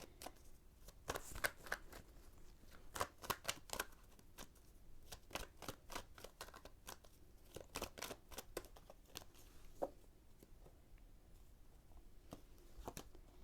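Tarot cards being shuffled by hand, a run of crisp, rapid riffling snaps and flutters in irregular bursts, close and fairly quiet, with no talking.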